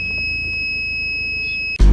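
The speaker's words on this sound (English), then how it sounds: "the beeping sound now runs through the little box connected to the autoradio" A car's parking sensor beeps through an Android autoradio as one steady high electronic tone held for nearly two seconds, then cut off by a sudden loud thump.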